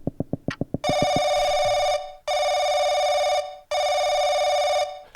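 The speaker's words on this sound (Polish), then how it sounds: "Telefony! Telefony, telefony!" Electronic telephone bell ringing in a horror video game set in a house, three long sustained rings after a quick burst of short clicks, loud and close with no talk.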